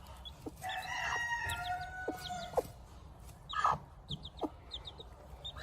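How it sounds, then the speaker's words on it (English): A mother hen clucks to call her chick, with a long drawn-out vocal call followed by several short, scattered clucks over a steady low background hum, at moderate distance. "She's going to call the little chicken to herself."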